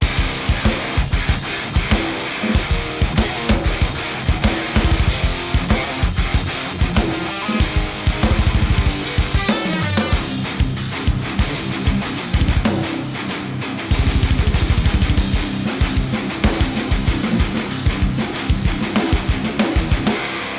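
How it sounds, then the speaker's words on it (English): Quad-tracked distorted metal guitars riffing with a full drum kit, pounding kick and snare hits under dense chugging layers, loud and steady throughout. "And then if I add in the drums, it sounds like this."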